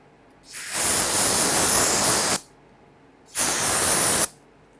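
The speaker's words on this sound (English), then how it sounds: "we're going to go ahead and use a spray solvent and clean our filter" Two hissing bursts of aerosol spray solvent cleaning a fuel pump filter from a 1997–2006 Jeep Wrangler, the first about two seconds long and the second shorter, loud and close with a quiet gap between.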